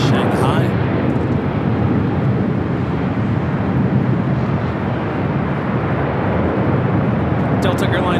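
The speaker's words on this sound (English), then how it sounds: "Western Global Airlines Queen touching down on 25 left" A Western Global Airlines jet touches down on runway 25 left at LAX. Its roar is loud and broadband and holds steady from start to end.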